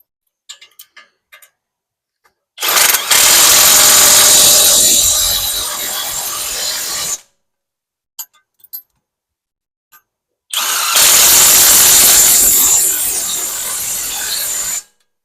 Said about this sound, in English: now I'm going to put the nut and take my impact wrench and tighten these down